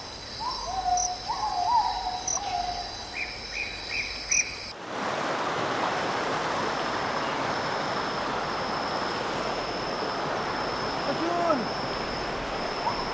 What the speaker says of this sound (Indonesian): dengerin deh, ada suara-suara burung